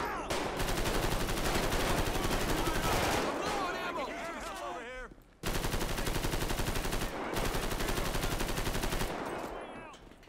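Sustained bursts of automatic gunfire from a police shootout in GTA 5 during a truck boarding, loud and dense with rapid repeated shots, a brief lull midway, then more heavy firing.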